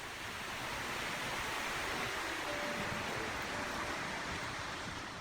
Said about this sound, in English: I still spent a little bit of time filming a creek that runs through the centre area of the village